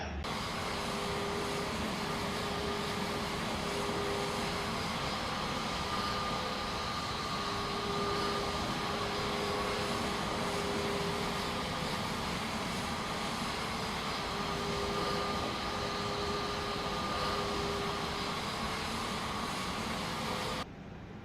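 An airplane taxis in Microsoft Flight Simulator with a continuous, steady engine drone and a faint tonal whine under it, unbroken and fairly loud with no talk.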